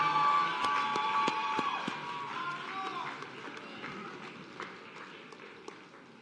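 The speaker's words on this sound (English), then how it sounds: "Round of applause for this group." Audience applause at a nursing college white coat ceremony, scattered claps from a crowd in a hall, louder at first and gradually thinning out, with faint crowd murmur beneath.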